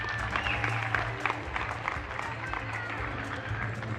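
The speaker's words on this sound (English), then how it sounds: "How about a round of applause for Hunter" A crowd applauds at a regional junior livestock steer show, a dense, steady wash of clapping that is loud and continuous for a few seconds.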